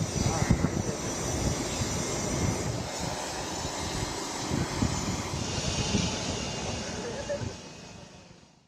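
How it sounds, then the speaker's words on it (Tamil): A small chartered plane flies to Delhi, giving a steady broadband engine roar that continues throughout and fades out at the end. "நீங்கள் பார்த்த அந்த சார்ட்டர்ட் ஃப்ளைட்டில் விஜய் மற்றும் அவருடைய குழுவினர் டெல்லிக்கு பறந்து சென்றார்கள்"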